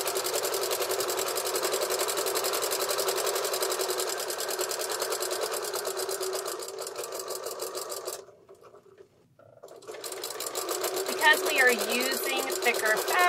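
A sewing machine fitted with a walking foot runs steadily through thick layers of fabric on a baby taggie blanket, a continuous close mechanical hum that stops briefly for about a second before resuming.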